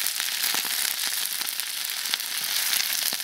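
Meat and cabbage stir-fried in hot oil in a small wok, a steady close crackling sizzle with rapid pops and occasional stirring scrapes throughout.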